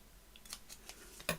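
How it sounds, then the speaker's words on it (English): Scissors snipping paper card, a few faint, quiet crisp cuts spaced irregularly, with a sharper final snip. "Let's use these scissors."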